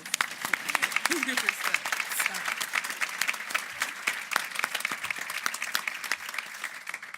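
Audience at an annual meeting breaks into strong, sustained applause, many hands clapping with crisp individual claps standing out and a few voices audible beneath.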